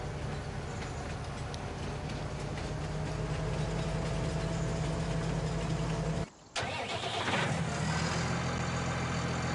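A tractor engine in Farming Simulator 19 that needs repair idles with a steady, loud low rumble, briefly cut out for a moment before resuming.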